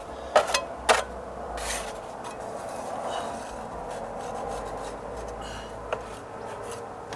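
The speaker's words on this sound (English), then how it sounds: "Some of this is too dry to where I can just pull it off, so I'm gonna have to lightly scrape it off" Dry rotted wood is lightly scraped off deck stairs, with a few sharp scratchy strokes at the start, then quiet rubbing against faint background hiss.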